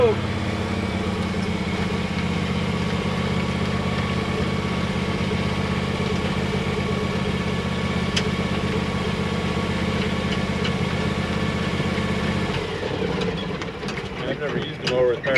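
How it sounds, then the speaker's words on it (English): A John Deere X390 riding mower with power steering runs its engine in a steady, close, mid-pitched drone that holds evenly for about twelve seconds before shifting and wavering toward the end. "I've never used a mower with power steering before."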